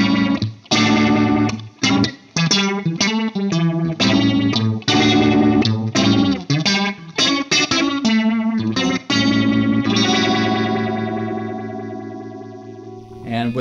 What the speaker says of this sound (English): Turn it down the feedback and you get kind of some Leslie sounds.